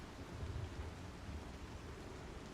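Steady rain in the video game Star Citizen, a continuous broadband hiss with low rumbling swells like distant thunder, heard alone at a moderate level.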